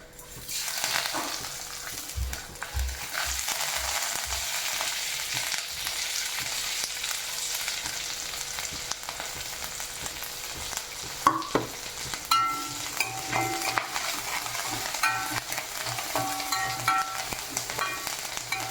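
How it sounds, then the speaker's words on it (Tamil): Asafoetida and toor dal fry and sizzle steadily in a pan with oil, with repeated stirring scrapes and clinks throughout and no talking. "இப்போ பெருங்காயம் நல்லா பொரிஞ்சாச்சு. நெக்ஸ்ட்டு துவரம்பருப்பு போட்டுக்கலாம்."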